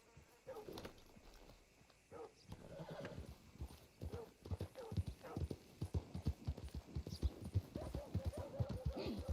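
Steady clip-clop of horse hooves at a walking rhythm in Red Dead Redemption 2, fairly close, with a brief whinny early on and a low background hum.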